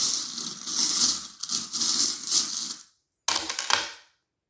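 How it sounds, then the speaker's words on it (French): Small charms are tossed into a tray for a tarot reading and make a bright, close jingling clatter that rattles steadily for about three seconds, stops briefly, then gives a shorter second scatter and settles. "j'ai opté pour un plateau pour pouvoir lancer mes breloques dedans"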